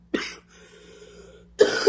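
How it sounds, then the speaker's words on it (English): Two short coughs, one at the start and another near the end, with a quiet stretch of faint background hum between them. "this cough came out of nowhere"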